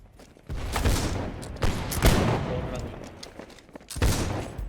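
Brown Bess muskets fire in the Napoleonic-era battle game Holdfast: Nations At War. Several sharp, booming shots crack out about every one to two seconds over a rumbling battlefield din, some close and some farther off.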